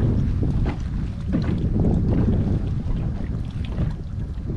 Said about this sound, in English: it's also windy out here